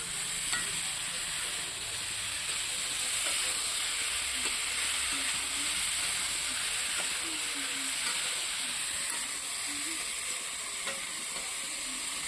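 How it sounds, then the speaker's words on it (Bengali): Chickpeas frying and being stirred in a pan, with a steady broad sizzle throughout and occasional soft scraping stirs, close and continuous with no talk. "ছোলাগুলো দিয়ে দে। ভালো করে নাড়াচাড়া করে দে।"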